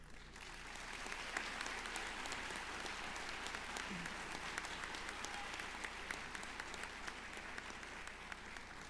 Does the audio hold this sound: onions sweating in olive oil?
no